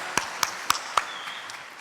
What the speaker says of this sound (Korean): 하나님께 영광과 감사의 박수를 드리도록 하겠습니다.